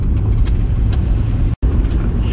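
A car driving along a snowy road, heard up close as a steady, loud engine and tyre rumble with a brief cut partway through.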